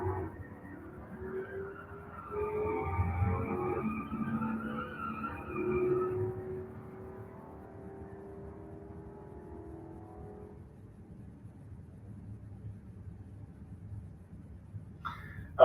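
A 1994 Pontiac Firebird and a 1994 Corvette launch in a drag race at Gainesville, engines roaring and rising in pitch before fading into the distance, leaving a low ambient hum.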